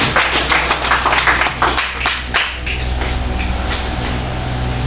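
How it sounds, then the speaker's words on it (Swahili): A church congregation applauds an elder for preaching the gospel. Loud, dense clapping fills the first couple of seconds, then dies away into a steady low hum with no voices. "Pigia usema huyo mzee makofi kwa kuhubiri injili"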